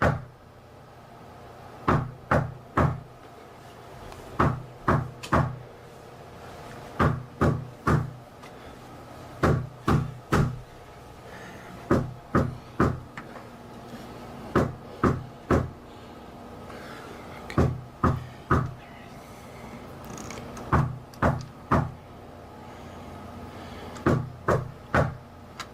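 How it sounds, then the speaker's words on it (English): Someone knocks on a front door in repeated bursts of two to four sharp raps, separated by pauses, going on and on in a quiet room. "someone knocking at my front door for the last 10 minutes or so, and they haven't stopped knocking"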